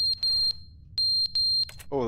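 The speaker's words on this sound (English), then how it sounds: "Oh, the fire alarm's going off." A fire alarm in the Stanley Parable: Ultra Deluxe shrills in loud, piercing beeps of uneven length with short gaps between them, and a voice briefly cuts in at the very end.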